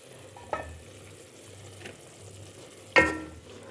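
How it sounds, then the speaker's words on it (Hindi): Onion, ginger and garlic cook gently in a pan for a prawn curry, a quiet low sizzle punctuated by three distinct spatula clinks and scrapes, the last the loudest. "प्याज और अदरक लहसुन पक रहा है"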